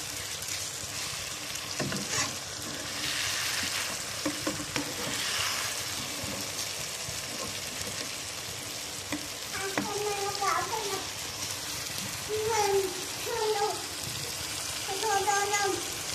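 Chopped capsicum sizzling in oil in biryani masala while being stirred, a continuous close frying hiss with scraping spoon strokes and a few clanks against the pan, and a voice talking over parts of it.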